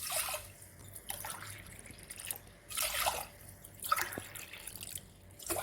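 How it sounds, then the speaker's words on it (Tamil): Water is poured in uneven splashing bursts into a pressure cooker holding washed rice, roughly four to one water to rice, heard close with short pauses between pours in a quiet kitchen. "இப்போ அதோட சேர்த்துக்கிறேன். 1 பங்கு அரிசிக்கு 4 பங்கு அளவுக்கு தண்ணி."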